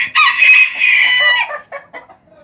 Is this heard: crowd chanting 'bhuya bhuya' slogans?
no